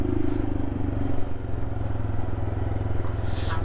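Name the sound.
Royal Enfield Himalayan motorcycle engine running rough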